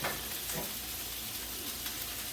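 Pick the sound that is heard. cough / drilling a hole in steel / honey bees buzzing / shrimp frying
shrimp frying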